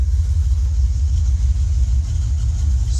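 A 1980 Plymouth Volare sedan engine idles cold at 600-700 RPM with a deep, steady, rumbling drone and an exhaust leak, constant and close, with no voices.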